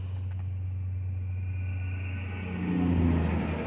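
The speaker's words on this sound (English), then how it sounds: "there's a big ass truck trying to turn there" A large truck turning nearby gives a steady low engine rumble that swells into a louder rev toward the end, with no talk over it.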